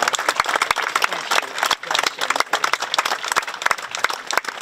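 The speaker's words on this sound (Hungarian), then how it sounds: "a 2. helyezett Szemerédi Krisztián, nagy tapsot szeretnénk neki kérni." Audience applause at a Pentecost king race results ceremony, a dense burst of many hands clapping steadily for several seconds with a brief dip midway, close and loud with no talk.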